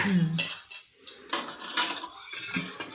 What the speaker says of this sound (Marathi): आता हा तीळ भाजायला टाकतोय